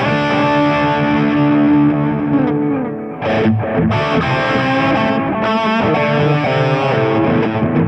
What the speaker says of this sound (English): big squidgy delay, loads of reverb again.